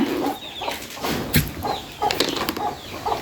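Chickens clucking at a farm pen at feeding time with rice, a steady scatter of soft clucks at mid distance with brief louder squawks and some rustling.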